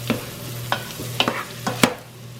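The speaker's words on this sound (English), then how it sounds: "This is unsalted butter. I'm going to let the butter melt." Unsalted butter melting in a pan, a low sizzle with a handful of distinct utensil taps and scrapes spaced about half a second apart, over a constant low hum.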